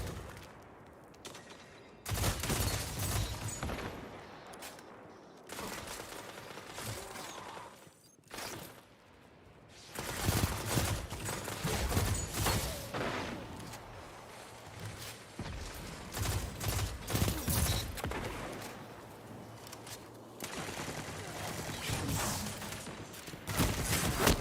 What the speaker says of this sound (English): And again, an SMG